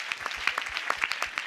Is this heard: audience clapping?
yes